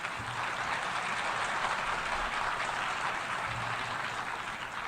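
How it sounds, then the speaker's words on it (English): Sustained audience applause fills a large assembly hall at the UN General Assembly, a dense, steady clatter of many hands clapping at even loudness throughout, with no speech over it. "Well, you applaud now,"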